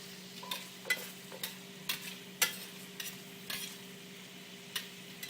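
Potatoes sizzle steadily in a hot pan while a spatula stirs and tosses them, producing about a dozen sharp scraping clatters at an irregular rhythm over a constant frying hiss and a low hum.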